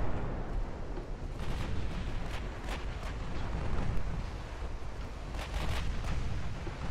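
Naval gunfire in the warship game Ultimate Admiral Dreadnoughts: a continuous low rumble of distant big-gun salvos and explosions, with several sharper booms standing out over the steady roar.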